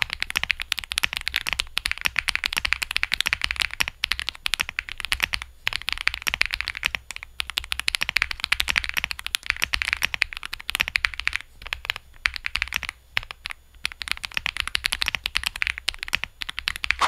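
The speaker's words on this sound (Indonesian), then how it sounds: "Jadi kita dengar dulu sound typing testnya." Continuous fast typing on a Mechland Blade 75 aluminium mechanical keyboard with Verdant switches produces dense, sharp clacking keystrokes close to the microphone, with brief pauses and no talking.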